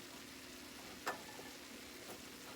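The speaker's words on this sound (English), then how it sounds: "I still have my hamburger cooking" Hamburger meat cooking in a pan, a faint steady sizzle with a single soft clink partway through, quiet and without talk.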